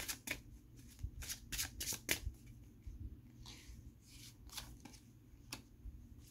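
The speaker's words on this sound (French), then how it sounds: "Ok, on va prendre des cartes ici." Tarot or oracle cards shuffled by hand for a card reading, a steady run of soft riffling flicks and sharp snaps, close and fairly quiet, with no talk.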